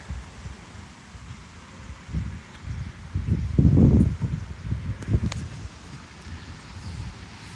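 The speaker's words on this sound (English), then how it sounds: "With this wind, I don't want them to blow over." Wind blows outdoors in low rumbling gusts that buffet and swell to a peak midway before settling, with a couple of faint clicks near the end and no talk.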